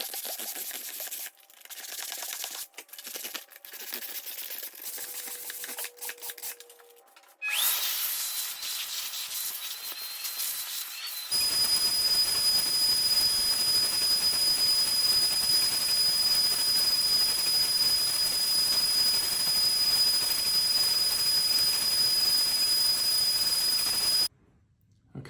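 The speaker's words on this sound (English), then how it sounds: "Now we're going to do the sanding of the juice groove and the whole top of the board" Power sanding on a basket-weave wooden cutting board, working the juice groove and the whole top, with a steady loud hissing whir and a thin high whine. It starts with short bursts and then runs continuously before cutting off near the end.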